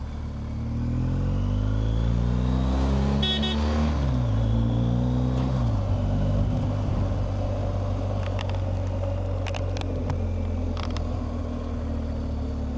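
A bus passes on a road in India during a monsoon, heard from a motorcycle: a loud, continuous engine drone swells and shifts in pitch as the bus goes by, with scattered clicks and rattles and no talking.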